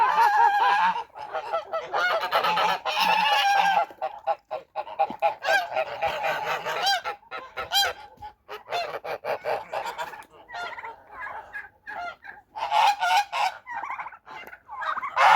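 Geese honking loudly and repeatedly, a dense overlapping chorus of harsh calls with brief pauses, close by.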